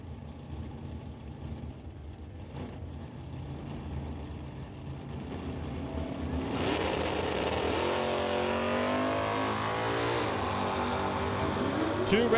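Drag racing cars, a Chevelle and a Dodge Dart, idle and rumble at the line at Mission Raceway, then one roars off in a loud, rising launch that holds steady through the end, with a crowd murmuring underneath.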